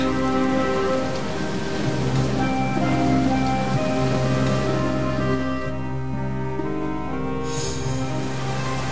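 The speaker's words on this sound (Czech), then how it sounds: "Déšť zaplavil celou zemi." Heavy rain pours steadily over flooded land, a dense continuous hiss of drops on surfaces, loud and unbroken throughout, with a low tonal bed of music underneath.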